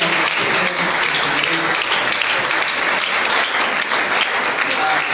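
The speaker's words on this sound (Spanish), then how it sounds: "Den un fuerte aplauso al Señor." A church congregation claps loudly and continuously for the Lord at the close of a sermon, a thick, sustained roar of hands filling the room.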